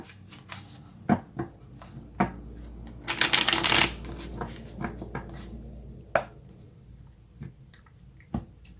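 Tarot cards being shuffled by hand, a run of soft riffling flicks and taps with a dense burst of rapid card fluttering in the middle, close and fairly quiet with no talking.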